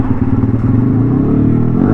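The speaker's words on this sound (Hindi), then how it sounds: "भाई ने खतरनाक बना रखी है भाई अपनी बाइक।" A Yamaha R15 sport motorcycle's engine rumbles loudly and close up, a deep, steady, ear-splitting revving drone with a rough, pulsing exhaust texture and no talking.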